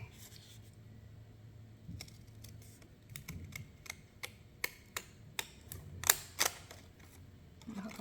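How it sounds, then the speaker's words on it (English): Small scissors snip through junk journal card in a series of sharp, close clicks, spaced irregularly and then bunching into quicker cuts, over a quiet background with faint room noise. "I'm going to get my little scissors out, and I'm going to cut it"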